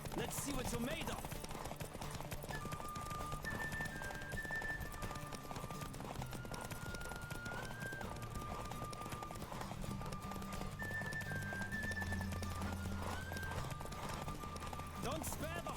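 Steady galloping hooves of a horse in the Witcher 3 video game, a continuous rapid clip-clop running throughout alongside game music and ambient effects, with a voice speaking over it.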